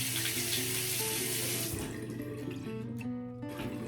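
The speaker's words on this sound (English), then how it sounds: "Let's rinse." Tap water runs steadily into a sink to rinse a razor, a close, continuous splashing hiss that eases slightly toward the end.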